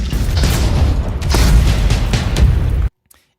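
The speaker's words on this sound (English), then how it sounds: "it just sounds like an explosion" A film sound effect of a plane impact booms like an explosion, a loud sustained rumbling blast with crackling bursts for nearly three seconds before cutting abruptly to silence.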